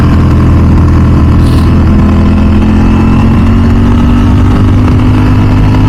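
A Ducati V4 SP2 motorcycle roars loudly and continuously while being ridden, its engine holding a steady, dense drone with a faint wind rush throughout.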